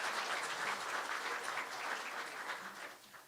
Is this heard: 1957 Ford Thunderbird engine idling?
no